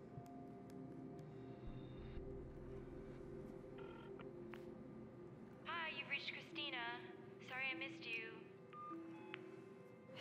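Faint telephone keypad tones beep in a quick series partway through as a number is dialed, set over a low murmur of background sound.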